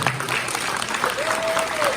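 Audience applause greets a memento presentation at a Pongal festival gathering, a brief burst of continuous clapping with a faint thin tone sliding through midway.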